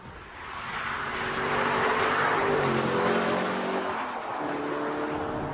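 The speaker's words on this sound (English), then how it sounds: "And the Aston Martin DB9 Sport Pack. British, V12, very pretty." Aston Martin DB9 Sport Pack with a British V12, its engine droning loud and steady as it swells to a peak mid-way and then eases slightly, with no voices over it.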